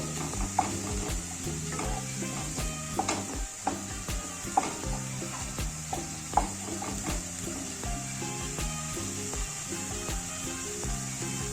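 Spices being fried in a pan for a Bengali potato, pointed gourd and prawn curry, a soft steady sizzle broken by scattered scraping and clinking of a spoon as the mixture is stirred.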